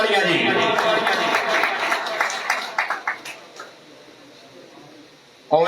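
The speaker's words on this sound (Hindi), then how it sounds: "भाई निगड़ियां ने वास्ते एक बारी जोरदार तालियां जी" Applause from the audience at a pigeon club prize-giving ceremony, a dense crowd of clapping that starts loud and gradually thins out and fades over several seconds.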